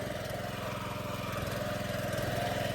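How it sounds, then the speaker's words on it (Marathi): A tractor engine runs steadily and loudly while a girl drives it across a farm field. The close, continuous mechanical drone holds an even throb throughout, with no talking. "माझी भाषी ट्रॅक्टर चालवायचा प्रयत्न करते बघूया"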